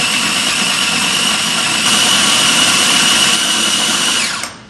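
A machine grinds sambal chili paste for a wok-tossed eel dish, a loud steady close motor whine that runs continuously and then winds down abruptly at the end, with no voices.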